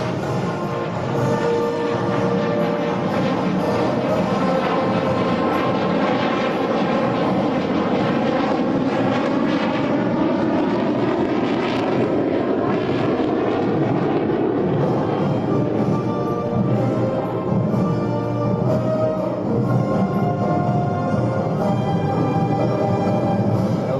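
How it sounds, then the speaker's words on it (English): A J-10 fighter jet flying a demonstration at the Singapore air show, its loud, continuous engine roar shifting in pitch as it maneuvers, with no talking. "a flight demonstration of the stability of the aircraft and the solid pilot handling of the J-10 even in extreme states"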